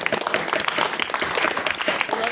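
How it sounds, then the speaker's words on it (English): Enthusiastic applause from a room of people at a debating competition, dense rapid clapping, close and continuous throughout with some voices mixed in. "So a big round of applause for them."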